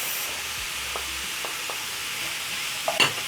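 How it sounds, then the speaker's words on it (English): Carrots and minced meat frying in a pan for a meat pie filling, a steady broadband sizzle with a few soft utensil clicks and a brief clatter near the end. "Let the carrots and minced meat cook together"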